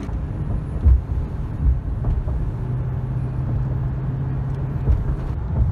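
Toyota Tundra pickup truck on a test drive, heard from inside the cab as a steady low engine and road rumble with occasional bumps and a sustained drone, no talking.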